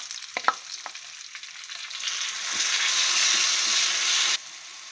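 Kokum paste goes into a sizzling tempering of green chillies and asafoetida, a few clattering knocks giving way to a loud, steady frying hiss that swells and then cuts off abruptly, with no talking.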